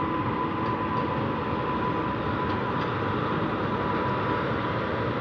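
The New Delhi–Amritsar Shatabdi Express on the Ludhiana–Ambala line, hauled by an electric locomotive, rushes past in a continuous broadband roar of wheels and carriages that stays steady and fairly close throughout, with no talk.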